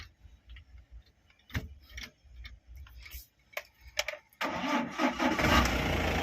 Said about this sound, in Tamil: வாங்க வண்டி இன்ஜினை ஸ்டார்ட் பண்ணி பார்ப்போம்